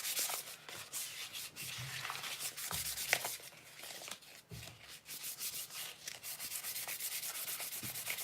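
Steady rasping strokes of a geode being hand sanded under firm pressure, close and continuous with brief dips between passes.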